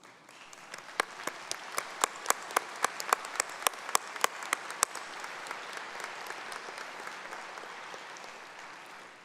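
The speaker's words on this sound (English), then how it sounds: "turn to the graduating class so they can applaud your service, your inspiration, and your investment in their future" Commencement audience applauding faculty at a fall graduation ceremony, a steady wash of clapping from a large crowd with a few sharp, close claps standing out, swelling then gradually thinning over several seconds.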